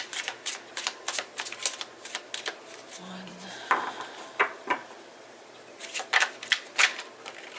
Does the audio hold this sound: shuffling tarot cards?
yes